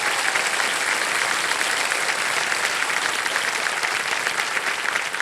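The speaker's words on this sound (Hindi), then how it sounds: "तालियों के साथ हम इनका स्वागत करते हैं।" A studio audience on the TV quiz show Kaun Banega Crorepati applauds to welcome a guest, a dense, steady, sustained clapping that stays loud throughout with no voices over it.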